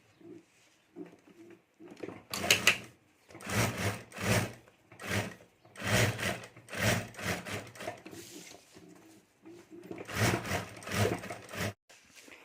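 A sewing machine stitches a pocket onto a handmade clutch bag, running in repeated loud bursts of rapid mechanical whirring separated by short pauses as the fabric is turned.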